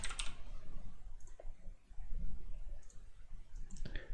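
A computer mouse clicks faintly and close by, a few sharp isolated taps spread over a few seconds against a quiet room hum, with no voices.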